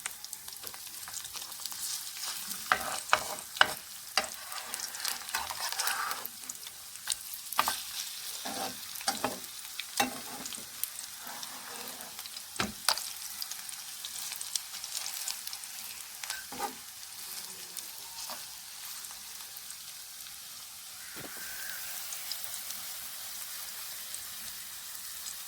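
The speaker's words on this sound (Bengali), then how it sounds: "বড়াগুলোকে খুব সুন্দর করে মুচমুচে করে ভেজে নিতে হবে" Ridge gourd leaf fritters frying in hot oil, a steady crackling sizzle with sharp pops and spits, occasional louder bursts as the fritters are turned, close by with no talk.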